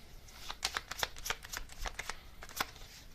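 Tarot message cards are shuffled by hand, close up, in a quick run of crisp riffling bursts and slaps of varying loudness. No one talks.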